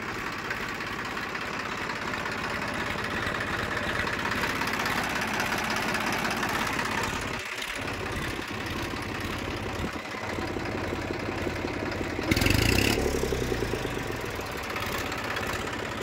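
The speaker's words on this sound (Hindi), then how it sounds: "किसान भाइयों को स्टार्ट करके दिखा दो जी आवाज़ सुनवा दें" A Massey Ferguson 1035 tractor diesel engine runs at a steady, loud idle, with a brief change in the middle and a louder burst near the end.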